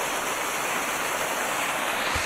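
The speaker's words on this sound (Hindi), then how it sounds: "ये देखिए झरना कितना अच्छा है।" Roaring waterfall beside a trekking trail in Nepal, a dense continuous rush of falling water filling the whole sound, steady and close, with no voices.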